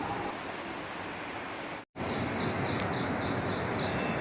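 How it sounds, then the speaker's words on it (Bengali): Several kinds of birds call at dawn in wooded hill country around Manali, their faint chirps and repeated short tweets rising over a steady broadband outdoor hiss, with a brief dropout partway through. "অনেক ধরনের পাখি ডাকছে ভোরবেলায় এই যে আওয়াজ নিশ্চয়ই পাচ্ছেন"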